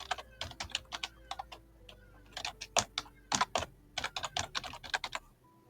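Fast keystrokes clatter on a computer keyboard in uneven bursts while a workflow name is typed, crisp and close with short gaps between flurries.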